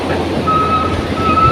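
Sea waves on the Sindhudurg coast roll in a broad steady wash with wind noise buffeting the microphone, and a thin high tone sounds faintly through part of it.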